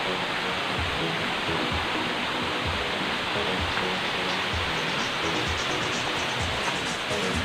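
Ansiong Falls, a waterfall in Paracale, Camarines Norte, fills the air with a constant dense roar of rushing water that stays loud and steady throughout.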